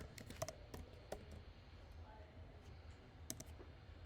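Keys clatter on a computer keyboard in quick, light bursts of clicks over a steady, faint background hiss, typing out code in a quiet room.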